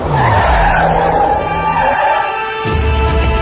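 A car skids to a stop on a rainy road as a sound effect, with a loud, close tire squeal and engine whine lasting a few seconds, briefly dipping before the screech resumes.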